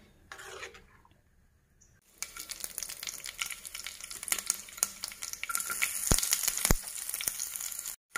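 Horse gram curry in a Kerala-style pot heats toward a boil, giving a steady close hiss and bubbling crackle that rises after a quiet start, with a few sharp clicks near the end.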